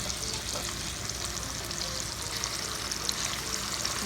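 Steak sizzling in a hot pan, a steady dense crackle and hiss that holds evenly throughout, close and moderately loud with no talking.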